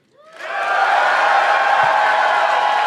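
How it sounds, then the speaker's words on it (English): Live debate audience in Austin cheering in a vote, a burst of crowd noise that swells within half a second into a loud, sustained roar of whoops and yells, holding steady to the end. "If you agree, give us a cheer."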